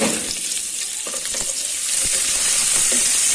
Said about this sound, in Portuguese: já estou dourando aqui o alho. Vou colocar a cebola